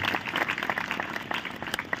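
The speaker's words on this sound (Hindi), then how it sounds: "ताली बजा के प्रभु का धन्यवाद को" Church congregation applauding after a sermon, a modest, uneven patter of hand claps from a crowd, moderately loud and continuous.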